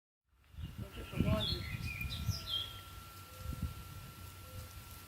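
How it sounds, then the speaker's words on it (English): Birds sing outdoors on a sunny Canada Day morning, with a few close chirps and short trills over a low background rumble, fading to quieter calls. "The birds are singing"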